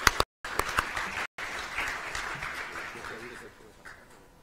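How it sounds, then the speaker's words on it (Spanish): Audience applause at a Latin American social protection panel event welcoming a speaker, a dense steady clapping that gradually thins out toward the end. "Por favor, demos la bienvenida con un voto de aplausos al señor Rodrigo Martínez"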